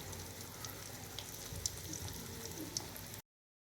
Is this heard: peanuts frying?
yes